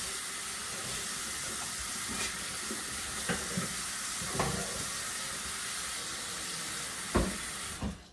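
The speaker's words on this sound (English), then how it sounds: "when I run the water, it gets really super loud." A kitchen faucet runs warm water steadily into a sink with a loud hissing rush, punctuated by a few soft clinks and knocks, ending as the flow cuts off.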